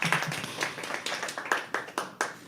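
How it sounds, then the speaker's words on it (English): Small audience clapping at a Sunday afternoon poetry open mic at The Habitat, a brief burst of scattered hand claps from a few people in a room, tapering off quickly. "Firstly, round of applause for all of you all for coming on a Sunday afternoon."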